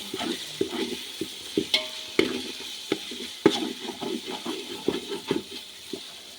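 Ginger and salt are sautéed in a pan with a soft frying hiss, broken by irregular spatula scrapes and taps on the metal as the mixture is stirred.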